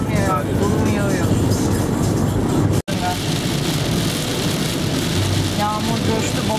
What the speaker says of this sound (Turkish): Yağmur coştu, baba etti.